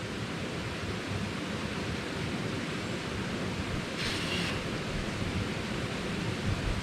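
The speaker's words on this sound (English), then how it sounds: "this sounds like a pretty good waterfall" A small wilderness waterfall rushes in a steady, broadband roar, close and continuous with no voices over it.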